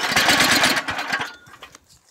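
A Predator 212 small engine powers a homemade golf cart running in reverse, a loud buzzing, pulsing engine note that stays close for about a second before fading and dropping off sharply.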